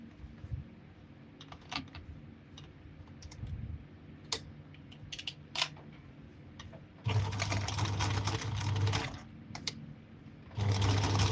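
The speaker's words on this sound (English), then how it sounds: "now I'm going to go on this side and just sew it on the edge of the zipper" Home sewing machine stitching along the edge of a zipper, heard in quiet stop-start bursts of rapid mechanical whirring, with longer steady runs near the end.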